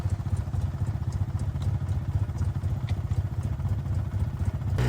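A four-wheeler ATV carrying gear on an Alaska moose hunt rumbles over rough terrain, its mid-pitched engine chugging steadily and close with clattering bumps.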